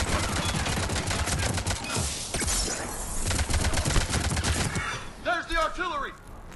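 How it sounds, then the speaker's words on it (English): Artillery fire in the video game Mass Effect 3 on Earth, dense rapid bursts of blasts and crackling impacts, loud and close, thinning out toward the end under layered game effects. "There's the artillery!"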